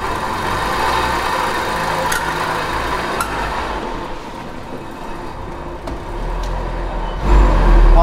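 A Renault Toros car engine idles after its first start in 14 years, a steady, close rumble that holds throughout and swells louder near the end, with no talking.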